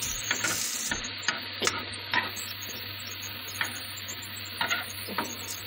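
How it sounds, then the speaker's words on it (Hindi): Chicken for shawarma frying in a pan, with a soft steady sizzle and repeated scraping stirs at irregular intervals, close and fairly quiet, with no talking. "हमने इसके अंदर इस चिकन को अच्छी तरीके से इस तरह कुक करेंगे।"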